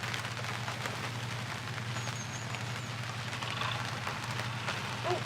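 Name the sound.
rain falling outdoors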